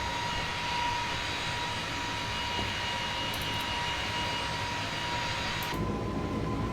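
Airbus A321LR jet engines roar steadily through a climb and acceleration on a Lisbon to Washington transatlantic flight, a loud, constant broadband whine with a faint tone above it.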